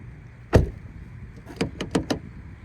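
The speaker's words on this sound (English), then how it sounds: "When we hit unlock once on the key fob, it unlocks the driver's side door." A 2023–2024 Nissan Versa S with a manual transmission responds to its key fob: one firm clunk of a door lock actuator, a short pause, then a quick run of four sharper mechanical clicks close by.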